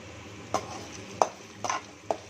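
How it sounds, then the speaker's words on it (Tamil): Urad dal, green chilli, garlic and ginger frying in a pan under a soft steady sizzle, with four sharp clinks of a spoon stirring against the pan. "பூண்டு, இஞ்சி இதெல்லாம் நல்லா செவக்கணும்."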